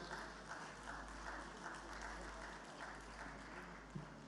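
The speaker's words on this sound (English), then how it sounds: "Please give a big round of applause to our District Governor." An audience at the inaugural function of the SAARCHI 2020 district conference applauds the District Governor, a sustained wash of clapping heard faintly from a distance beneath a low hum, with some voices mixed in.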